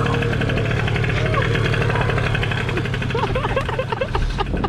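A Yamaha Booster scooter engine rumbles close by as the scooter pulls up, with a steady, buzzing idle and a low throb under voices talking over it.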